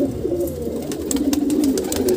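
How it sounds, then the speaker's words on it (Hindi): A female green pigeon coos on a rooftop loft, a soft, throaty, rolling call repeated in quick pulses, close and clear against faint background noise. "ये हरी कबूतरी है"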